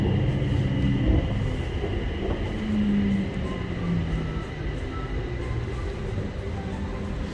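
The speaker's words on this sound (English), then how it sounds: "we are arriving at the station" A train pulls into Phrom Phong station in Bangkok with a close, steady rumble of wheels and car noise, plus a brief gliding tone of brakes or motor in the middle, and no speech.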